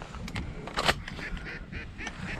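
Ducks call with honking quacks as they fly back over a duck hunt, several calls close together, moderately loud against outdoor background noise.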